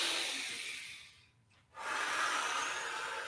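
A deep breath during a shiatsu stretching exercise, with a long, airy inhale that fades into a brief pause followed by a long, steady exhale, close and clear with no talking.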